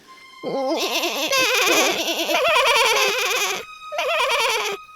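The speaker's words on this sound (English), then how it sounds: "they heard the voices of the little goats" Young goats bleat repeatedly in quavering, high cries, several voices overlapping close by, with a brief pause before one more burst of bleating.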